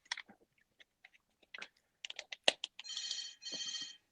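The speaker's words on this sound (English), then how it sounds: "What is that, an office phone in the background?" A hotel room telephone rings in the background in two bursts, faint and trilling, following scattered clicks and small chewing-like sounds.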